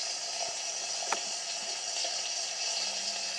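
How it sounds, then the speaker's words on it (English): Burgers sizzle on a hot kitchen griddle, a steady soft hiss with faint crackles that runs evenly and close throughout. "Making burgers, that's why you can hear that sizzling sound."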